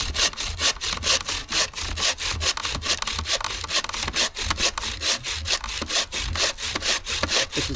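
A handsaw cuts through old, dry, hard timber in a steady run of rough, rhythmic strokes, close and loud, with no talking.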